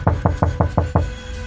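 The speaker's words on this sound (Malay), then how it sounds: "Tiba-tiba terdengar orang mengetuk tingkap bilik." Six sharp, evenly spaced knocks on a window of a third-floor hotel apartment room at night, fairly loud and close, with nothing else heard.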